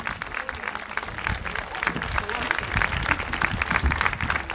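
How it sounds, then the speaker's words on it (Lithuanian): An audience at a library event applauds to thank two guest speakers, producing dense, steady clapping throughout with a lively crowd texture. "prašau labai garsiais aplodismentais padėkoti Jurgai Tamosonytei"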